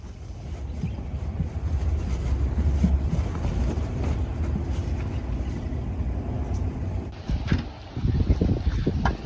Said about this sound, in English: It's a windy day, isn't it?